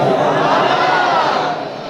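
Crowd at a religious gathering raising slogans for Ghaus-e-Azam, a broad roar of many voices chanting together, loud and sustained before easing slightly at the end.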